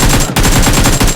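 Rapid automatic gunfire in the BGMI video game, a dense burst of loud, evenly spaced shots with one brief gap.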